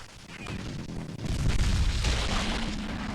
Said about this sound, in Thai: จุดระเบิดนะครับ